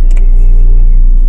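Cars pass along a road in Bahrain under lockdown, a steady close engine rumble and tyre roar that holds loud from start to finish with no talk.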